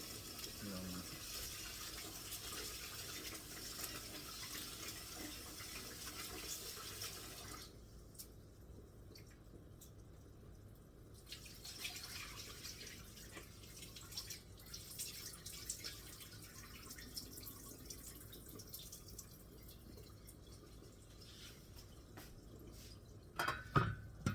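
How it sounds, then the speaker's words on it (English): Water running and dripping as rice is rinsed three to four times for a Jamaican Sunday dinner, a steady close wash of liquid with a quieter spell partway through and a few clinks near the end. "You have to make sure you wash your rice properly, okay guys?"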